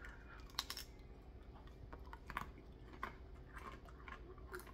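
Crunchy roasted red pepper beef jerky chips being chewed close up, giving a run of sharp, dry crunches at irregular intervals over a quiet background.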